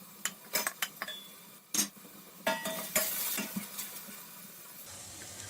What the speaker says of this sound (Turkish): Hemen üzerine doğradığım 2 adet havucu ve 2 diş sarımsağı ekliyorum.